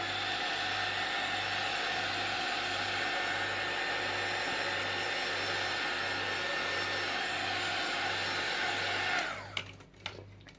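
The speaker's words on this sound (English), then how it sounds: "I'm going to give it a very quick blast with the heat tool because it's just so it dries" Heat tool blowing hot air to dry an art journal page, a continuous steady whir with a pulsing low tone for about nine seconds, then cutting off into a few handling knocks.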